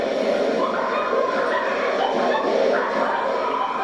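In the video game The Cave, a parrot imitates a dog, giving a continuous run of loud, close barking and yipping sounds over game background noise.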